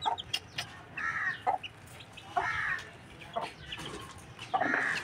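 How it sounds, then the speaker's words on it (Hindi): A rooster clucks and calls in bursts, several loud throaty vocalizations spaced about a second apart, close by with faint background noise. "ये देखो मुर्गा है, मुर्गा प्योर मुर्गा।"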